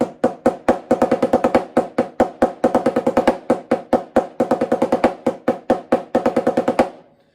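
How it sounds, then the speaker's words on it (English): Snare drum exercise in rudimental style, alternating counted sixteenth notes with seven-stroke rolls, crisp even strokes played close and loud with slight accents ending the rolls, stopping cleanly near the end. "it just alternates between a count of 16ths and then a 7-stroke roll back and forth"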